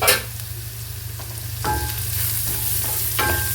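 Amla sautés in a pan with a soft steady sizzle, punctuated by a few clinking scrapes of a spoon stirring, close and quiet with no talking.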